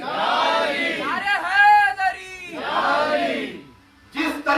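A large crowd roars a loud, sustained chant in response to the Naara-e-Haidari slogan at a religious gathering, with two swelling shouted waves followed by a brief lull.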